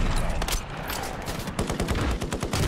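Dense automatic gunfire rattles through a Call of Duty Warzone match, with rapid overlapping bursts and scattered single shots filling the whole stretch at steady, loud volume.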